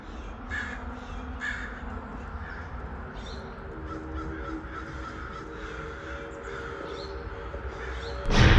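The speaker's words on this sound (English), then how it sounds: "This crow was given a new life and able to soar again." A crow caws outdoors in a mountain setting, repeating a series of harsh, evenly spaced calls at moderate distance, ending with a sudden loud thump like a door or slam.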